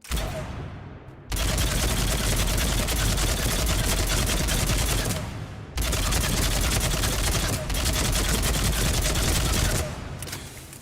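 Feistin rifle firing in the Mass Effect video game: two long sustained bursts of rapid, loud gunfire fill the clip, separated by a brief gap, with no talking.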